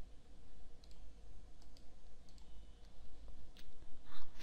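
A computer mouse clicks while lines are trimmed in AutoCAD, sounding as a scattered series of faint, sharp ticks spread over a low background hum, with no voices.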